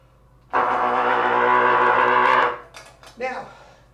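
A vintage Getzen Severinsen trumpet blasts one loud, sustained honking note for about two seconds, then short sputtering bursts follow.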